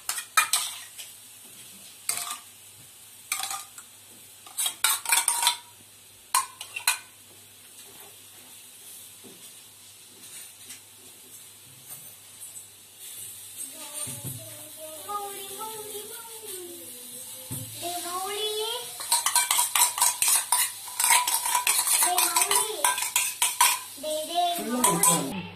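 A spatula scrapes and clinks against a metal pan as ready-made masala is stirred for a stovetop pizza topping, with irregular knocks and rattles and a voice heard faintly at times.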